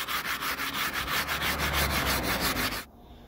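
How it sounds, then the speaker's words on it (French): Hand sanding on a camper van roof before gluing a solar panel: rapid, even back-and-forth rasping strokes, loud and close, stopping abruptly near the end, with no talk. "Donc je suis en train de continuer à poncer pour ensuite pouvoir mettre la colle."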